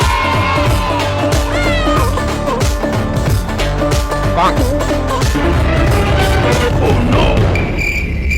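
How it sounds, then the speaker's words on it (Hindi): Cat meows rise and fall over a busy, loud background of music and effects, repeating several times throughout. "अरे चिंटू, ये बिल्ली ने तो हमारा मछली लेके भाग गया रे।"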